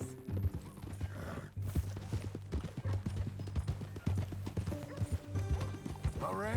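Horse hooves clip-clop at a steady walking rhythm in the Western game Red Dead Redemption 2, close and clear, with a neigh near the end and a faint voice or two in the background.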